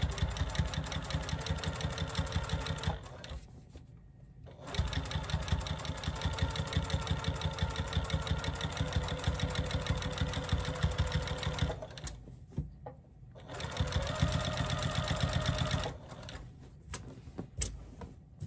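A sewing machine stitches minky fabric for a baby blanket in steady, rapid bursts of mechanical whirring, stopping briefly twice between long runs.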